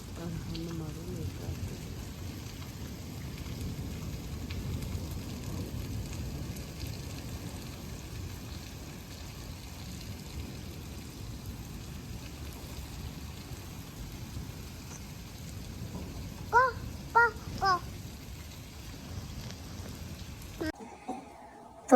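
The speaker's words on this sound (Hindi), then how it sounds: "तो जी माशाल्लाह आप लोगों ने बारिश की आवाज़ भी सुन ली" Steady rain falls on a cloudy day after sunshine, a continuous close hiss of drops on surfaces running throughout, with a few brief voice-like sounds near the end.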